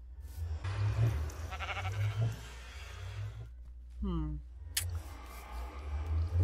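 A Minecraft sheep gives a single wavering bleat midway, fairly clear amid game sounds, with a person talking before and after it.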